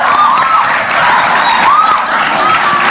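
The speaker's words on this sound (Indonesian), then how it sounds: "tepuk tangan sekali untuk adik-adik saya yang datang ke sini" A television talk show studio audience claps and cheers loudly, a dense wash of applause with high excited shouts and whoops throughout.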